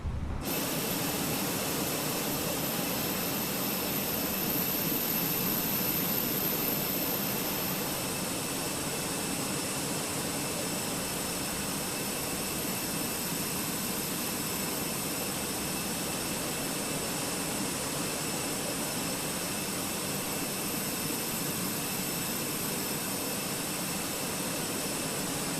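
Jet airliner engines run during pushback on a San Juan to Santo Domingo flight, a loud, continuous roar and high whine that holds steady throughout with no talk.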